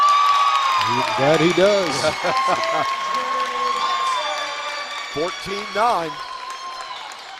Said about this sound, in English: this crowd's getting into the game